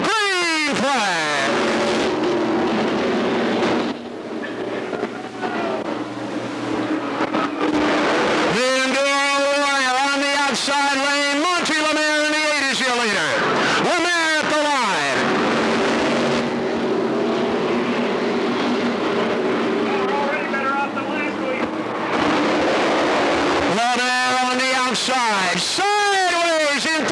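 Race cars thunder around the Thunder Road short track after the green flag, a Buick Regal among them, engines roaring loud and close with rising and falling passes, under continuous commentary.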